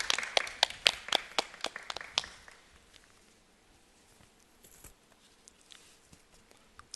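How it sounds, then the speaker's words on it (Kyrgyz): A small studio audience at a Kyrgyz TV talk show claps in a short, sparse burst of distinct handclaps that quickly thins out into near silence with a few scattered claps. "Кол чабуулар, келиңиз."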